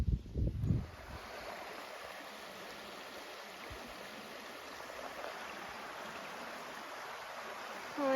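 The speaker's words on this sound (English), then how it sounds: "I wanted the noise of the river for the first night" A river on the Bruce Trail along the Blue Mountain section gives a steady, broad wash of flowing water, continuous and fairly close, with a brief low rumble at the very start and no talking.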